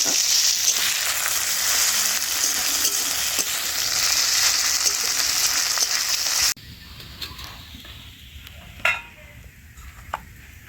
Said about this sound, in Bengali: এবারে সবকিছু একসাথে আরো একবার ভালো করে ভেজে নেব।